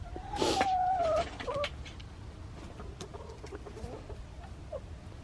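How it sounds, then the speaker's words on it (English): A chicken clucks in a garden with a short burst of squawking calls, fairly close, then falls quiet over soft outdoor background noise. "That chicken right there."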